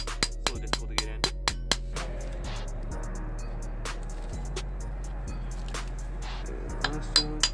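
A small Harbor Freight press pushes 100 durometer differential bushings into a Lexus SC400. Sharp, regular clicking knocks come close together over a steady low hum, thinning out in the middle and picking up again at the end.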